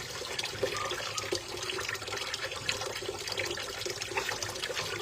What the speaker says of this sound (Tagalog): Maghugas din kayo katulad ng ginagawa ko ngayon